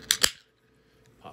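Aluminum can of White Claw Ruby Grapefruit hard seltzer cracked open at close range, two quick sharp pops with a brief hiss, then quiet.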